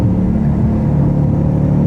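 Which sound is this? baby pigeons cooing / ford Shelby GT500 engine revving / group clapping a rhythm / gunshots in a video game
ford Shelby GT500 engine revving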